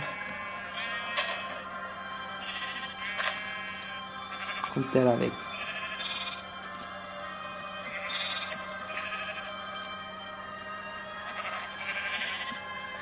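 A single short sheep bleat rises out of steady Minecraft background sounds, with someone talking in German now and then.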